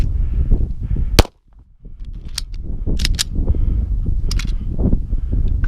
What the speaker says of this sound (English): So far we're at single shots.